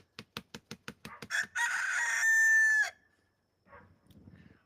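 A person vocally imitates a rooster crowing, opening with a rapid run of short clucking bursts that builds into a loud, sustained crow with a rising, strained tone, then a faint murmur afterward.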